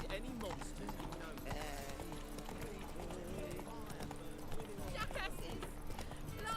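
Geralt's horse Roach trots along in The Witcher 3, hooves clip-clopping in a steady, continuous rhythm, with voices talking over the top throughout.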